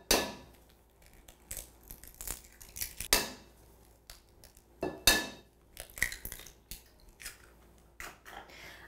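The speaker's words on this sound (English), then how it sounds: "make a little well in the middle and crack in your 3 eggs" Eggs cracked into a flour and spice mixture for Christmas biscotti, a series of sharp close taps and cracks against a bowl, with quiet gaps between them.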